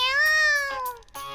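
A cat being dunked in water lets out a loud, close, drawn-out wailing meow, then a second shorter cry, both tonal and strained.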